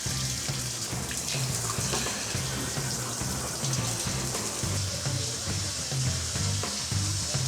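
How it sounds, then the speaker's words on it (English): Shower head spraying a strong stream of water against a wall during a home inspection water test, a steady close hiss and splatter with no talking. "Wow, that shower head really pumps it out."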